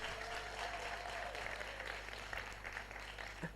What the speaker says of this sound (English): Can we give Laureen one more round of applause?